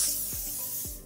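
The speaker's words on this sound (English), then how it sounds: "then we'll add in some of this hairspray" Forte series freeze extreme-hold hairspray hisses from an aerosol can onto a child's hair in one continuous close, bright spray lasting about a second.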